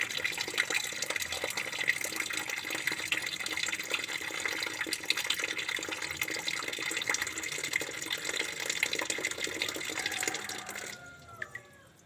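Old coolant draining steadily from the radiator of a Toyota Kijang Grand Extra, a continuous close splashing and trickling stream of water that holds steady, then tapers off into thin dribbles near the end.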